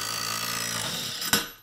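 A Kobalt 3/8-inch impact driver breaks loose a nut torqued to about 200 foot-pounds, producing a steady, close, high whine that ends with a sharp burst as the nut gives way.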